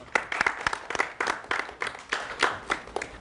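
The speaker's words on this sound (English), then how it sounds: "So, round of applause." Applause from a small audience at a film festival gathering, with a few people clapping in an uneven, fairly close rhythm of distinct claps rather than a dense roar, lasting a few seconds.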